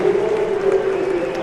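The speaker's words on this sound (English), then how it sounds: "Formula One Supremo Stefano Domenicali leading the applause." Crowd applause on the MotoGP grid at the 2023 Portuguese GP after the national anthem, a loud broad outdoor roar of clapping and cheering, steady throughout, with a sustained tonal hum running underneath.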